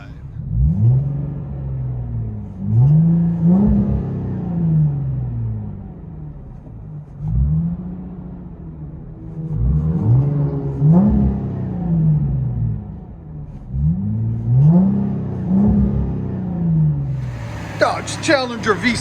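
Heard from inside the cabin, a 2010 Dodge Challenger 3.6L V6 with an LCGP resonator, mid delete and rear delete and a 5-inch tip revs in repeated swelling bursts over a muffled idle rumble, with a brief voice near the end.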